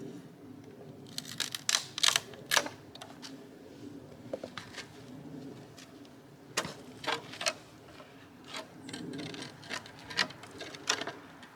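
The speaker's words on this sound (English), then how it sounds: "Need to snip off a bit more." Pruning shears snip repeatedly while trimming plants along a woodland garden pathway, giving a run of sharp, close clicks and crisp cuts in irregular bursts with faint rustling between them.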